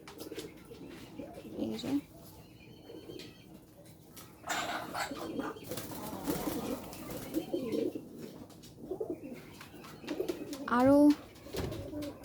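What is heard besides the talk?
pigeons cooing near their nest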